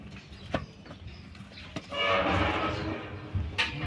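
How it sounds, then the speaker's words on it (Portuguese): Cattle stir in a slaughterhouse corral, with hoof knocks and shuffling nearby and a broad rush of movement midway, under a faint background of people. "Só tem dois bois só."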